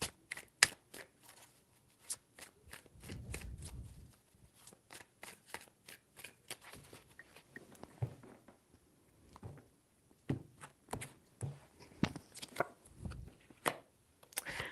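A tarot deck shuffled by hand, a long series of quick, sharp card flicks and soft riffles in an uneven rhythm, close-up and quiet, with no voice.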